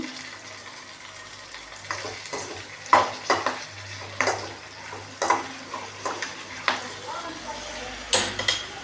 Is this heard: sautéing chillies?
yes